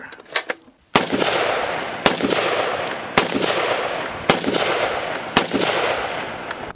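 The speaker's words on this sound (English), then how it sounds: "We're shooting some 180 grain Match King to kind of get things started." An IWI Tavor 7 .308 bullpup rifle fires 180 grain Match King rounds outdoors. Six sharp, loud reports come at roughly one-second intervals, and each crack trails into a decaying echo.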